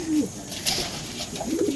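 Racing pigeons arriving at the loft, soft close cooing in two low rolling phrases with faint rustling between.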